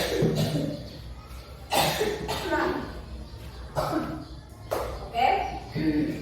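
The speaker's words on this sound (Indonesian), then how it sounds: "Ya, ibu lagi batuk." A woman with a sore, hoarse throat coughs several times in a classroom, sharp bursts recurring every second or so amid room noise.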